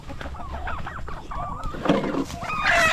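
Chickens cluck and chatter close by in a short burst of overlapping calls, with a louder squawk toward the end and some background rustling.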